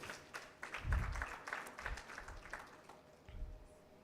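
Small audience at a talk gives scattered, faint applause as a young woman walks up to read, a few loose bursts of clapping that thin out toward the end.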